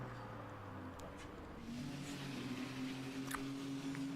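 Abarth 695 hatchback with a 1.4 litre engine accelerating down a drag strip, a steady droning engine note that climbs in pitch as it pulls away, heard at a moderate distance with no talk.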